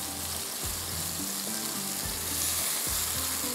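Reshmi chicken pasta sizzles loudly in a pan as spices are stirred in, giving a continuous frying hiss broken by regular scraping stir strokes about once a second.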